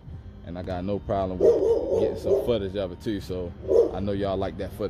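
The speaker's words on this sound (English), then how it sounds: "So again, sorry about the dog." A dog barks and yips in the background while someone talks continuously over it.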